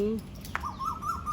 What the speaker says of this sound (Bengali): এই তো কোকিল মশাই ডাকছে